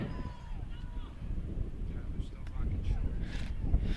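Wind buffets the microphone in a steady low roar at an outdoor softball game under clear skies, with a voice faintly audible beneath the gusts.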